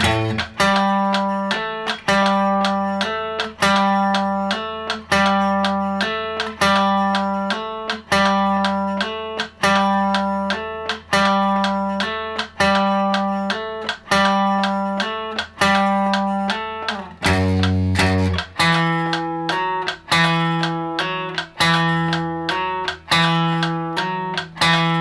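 A guitar part from a song plays alone, loud and close: a driving, evenly strummed chordal rhythm with repeated accented hits and one brief chord change near the end.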